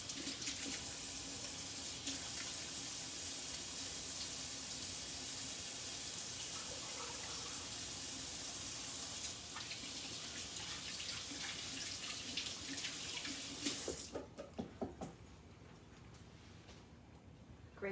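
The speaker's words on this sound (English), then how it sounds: "So I'm going to do a 20-second hand wash right now while you're cracking your egg." Tap water runs steadily into a sink as hands are washed beneath it, a faint continuous splash that thins into a few drips and clatters near the end.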